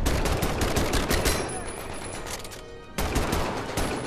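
M1 Garand rifle firing in the video game Medal of Honor: Above and Beyond: loud, close gunshots burst over a dense battle din, with a brief lull before the firing resumes.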